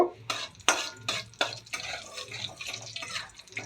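Cumin, two cardamom pods and a bay leaf tempering in oil, with quiet spattering and repeated clinks and scrapes of a spoon against the pan in an irregular rhythm.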